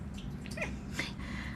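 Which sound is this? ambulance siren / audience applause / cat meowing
cat meowing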